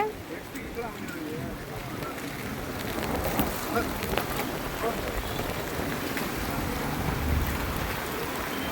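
Heavy rain pours down in a steady, dense roar with gusting wind, loud and continuous throughout, flooding streets and shops in Thiruvancheri.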